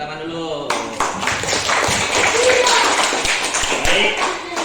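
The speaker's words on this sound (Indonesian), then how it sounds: "Oke, tepuk tangan dulu." Classroom applause from students at an Islamic religious education lesson, a dense burst of many hands clapping together at close range that starts abruptly and carries on steadily for several seconds.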